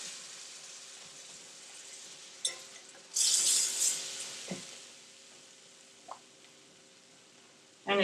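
Ham gravy in a skillet is stirred with a spoon around the rim, a low simmering hiss broken by a few scrapes and knocks and one brief louder bubbling burst, near and without speech.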